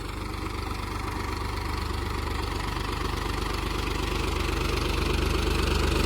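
A farm tractor's engine runs steadily at idle, a continuous low, throbbing drone that holds loud and even throughout with no voices over it.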